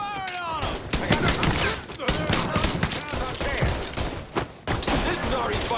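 Dense gunfire fills a Mafia 3 firefight, with rapid shots and bursts overlapping almost continuously, loud and close, while voices shout beneath the shooting.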